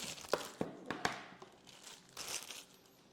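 Plastic wrapping being peeled off a Mini-MX box up close, with sharp crinkling bursts early on and softer rustling and tearing after, at moderate level with no talking.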